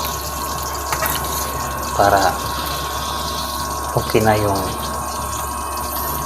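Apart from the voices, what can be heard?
pouring water into sinigang soup pot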